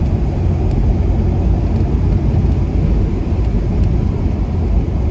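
Loud, steady low rumble of a rusty 1970 Pontiac GTO driving on a rough road, heavy road and engine noise filling the cabin, with a few faint rattles and no talking.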